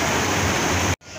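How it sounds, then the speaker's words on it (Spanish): A waterfall at Cascadas de San Pedro in Atlixco, Mexico, roars as a loud, continuous broadband rush of falling water that cuts out abruptly near the end. "Y llegamos a la cascada con la cual se toparía uno de entrada a las cascadas de San Pedro."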